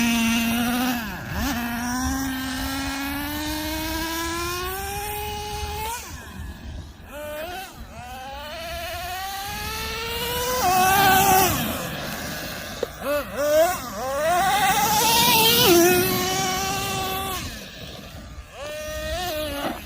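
Nitro engine of a Traxxas Nitro Revo 3.3 RC truck revving and whining as it drives, tumbles and wheelies, pitch sweeping up and down with distance, with occasional voice in the background.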